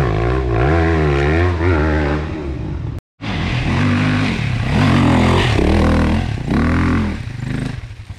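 An MX enduro motorcycle engine revs hard on a hard enduro course, loud and close, its pitch sweeping up and down through repeated throttle blips with a brief cut partway through.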